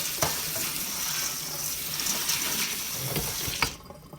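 Beans get a good rinse under running water in a kitchen, a steady close splash and rush that continues for a few seconds before stopping abruptly.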